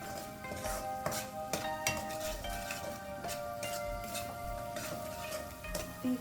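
Rajma masala with homemade garam masala and red chilli powder is sautéed in a pan. A spatula scrapes and clinks at a steady rhythm over a faint sizzle, and nobody speaks.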